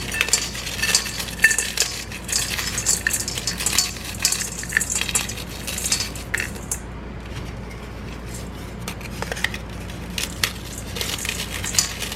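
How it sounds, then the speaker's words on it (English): Graham crackers crumbled by hand into a bowl, a steady close crackle and crunch of breaking crumbs with occasional sharper snaps, no talking. "So I'm going to try just crumbling these up myself."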